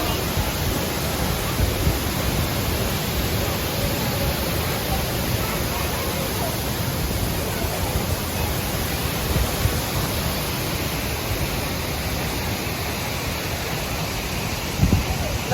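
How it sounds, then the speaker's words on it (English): Looking Glass Falls in Brevard, North Carolina, pours as a constant broadband roar, loud and unbroken for the whole stretch, with a brief thump near the end. "we are at Looking Glass Falls in Brevard, North Carolina"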